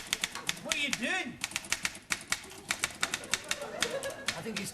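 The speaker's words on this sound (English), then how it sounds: "I think he's typing" Someone types on a typewriter indoors, the keys striking in quick irregular bursts with a few louder clacks and a sliding carriage sound, while people talk in the background.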